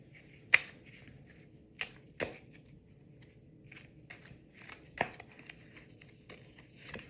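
Tarot cards drawn and handled on a table, with a few soft sharp snaps and slaps spread over quiet gaps and faint rustling between them, no voice.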